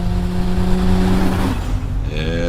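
A car engine revs loudly and steadily in a Super Bowl TV car commercial, a continuous roar with a rising whine near the end, no voices over it.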